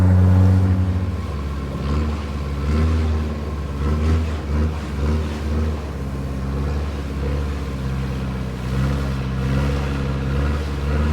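A tour boat engine drones steadily on Cheow Lan Lake in Khao Sok National Park, Thailand, a loud low rumble with a rhythmic throb, running continuously with no talk over it.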